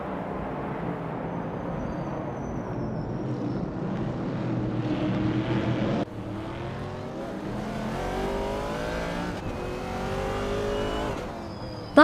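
Race cars roar past in a continuous racing video game, engines revving and shifting pitch as they overtake one another, loud and steady throughout with faint voices underneath.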